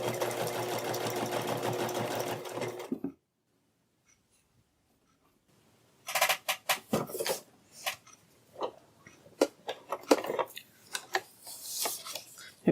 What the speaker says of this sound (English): So we're going to take this to the sewing machine just like this.